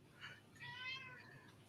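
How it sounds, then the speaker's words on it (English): A pet cat called Fat Ollie meows twice, a short call followed by a longer drawn-out one, faint and somewhat distant against a quiet background. "So, who has the kitty?"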